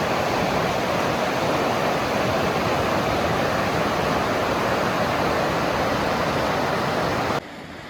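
A river flows steadily beside a benched hiking trail through New Zealand beech forest, a loud, continuous close rushing of water with no voices, cutting off abruptly just before the end.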